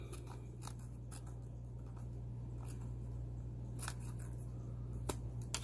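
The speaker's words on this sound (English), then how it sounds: "Then I'm going to cut along this dotted line." Scissors snipping open a Hanna calcium checker reagent packet, faint quick clicks and small cuts over a steady low hum, close and quiet.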